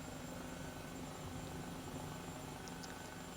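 An Airbus H135 helicopter in Microsoft Flight Simulator 2020 produces a steady, even rotor and turbine drone that holds at a constant moderate level from start to finish.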